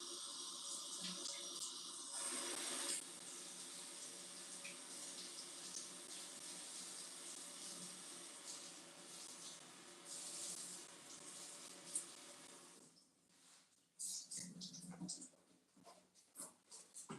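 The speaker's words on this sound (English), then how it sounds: "Let me rinse my lid real good." Tap water runs steadily over a jar lid being rinsed in the kitchen while making pickled jalapeños, a continuous hiss and splash that changes midway and ends in a few clattering handling noises and a faint voice.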